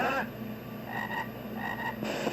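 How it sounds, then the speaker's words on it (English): A frog croaks steadily in a rapid, rattling rhythm, loud and close, continuing for a couple of seconds with no talking. "Look at Jeremiah the fucking frog."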